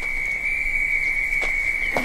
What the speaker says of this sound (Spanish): Un silbato aterrador que revive su dura realidad